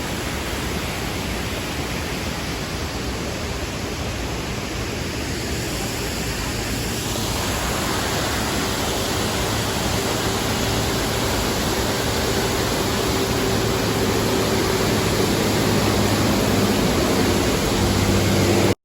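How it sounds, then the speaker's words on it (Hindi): Varchal waterfall near Munnar, Kerala, roaring as a dense, steady rush of falling water, loud and continuous with no break. "जो सामने मेरे वाटरफॉल है इसका नाम है वारचाल वाटरफॉल"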